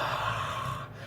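Steady breath blown close to a microphone across freshly poured resin to pop surface bubbles, one continuous airy whoosh holding for about a second with no talking.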